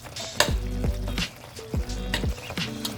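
Warm noodles and melting mozzarella get stirred for a lasagna, a utensil scraping and clacking against the pot in several sharp strokes with soft sticky squelches between, close and clear with no talking.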